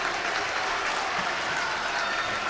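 Crowd at a high school playoff basketball game between Abington and Dover-Sherborn roars and applauds after a buzzer shot, a steady dense wall of cheering and clapping throughout.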